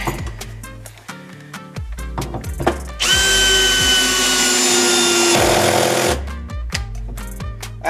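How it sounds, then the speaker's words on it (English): A power drill drives screws in and out of wood while building log cabinets, giving a steady whine about three seconds long. Short, choppy bursts of work noise come before and after it. "I'm just screwing in and out"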